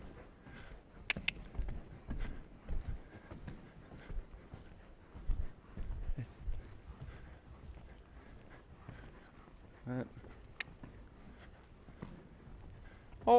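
Horse hooves clip-clop on the ground at a showjumping clinic, a loose uneven patter of footfalls at moderate distance with occasional louder thuds and faint background noise.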